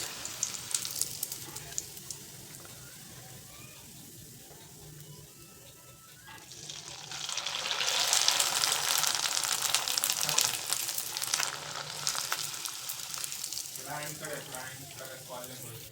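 Kurdai deep-frying in hot oil, a faint bubbling hiss that swells into a loud, dense sizzle midway and then eases, with a voice talking over it.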